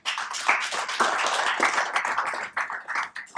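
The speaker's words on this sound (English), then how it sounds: "A big round of applause for him." A seminar audience at a panel discussion gives a short round of clapping, uneven bursts of hands that swell and fade over a few seconds, fairly close and alone without voices.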